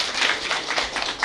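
Audience at a residents' compensation meeting applauding, a short burst of steady clapping from many hands filling the room.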